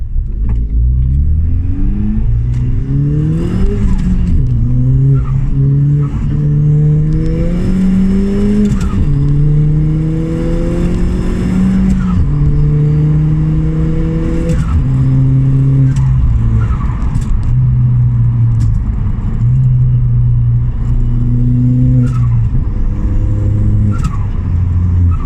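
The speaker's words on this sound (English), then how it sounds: "I'm going to show you how it goes through all the gears, starting off with first gear and then going through all the way up to sixth." A car fitted with a CAE Ultra Shifter pulls hard from first up through sixth gear, its engine note climbing loudly in repeated rising sweeps, each broken by a quick drop at the gear change, close up with no talk.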